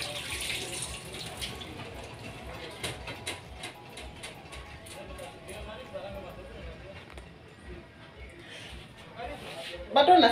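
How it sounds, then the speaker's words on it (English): Hands being washed under a running kitchen tap before kneading chapati dough, a soft continuous trickle with light splashes and a louder gush at the end. "So, I'm washing my hands."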